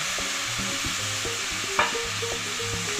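Finely chopped tomatoes sauté in a pan for a mushroom and green pea gravy, giving off a constant, even hiss of sizzling. Background music with stepped tones plays over it, and a single brief clink sounds midway.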